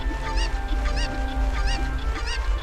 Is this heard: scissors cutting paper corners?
no